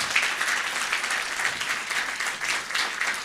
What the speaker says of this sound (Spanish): Un aplauso más, por favor, para los hermanos.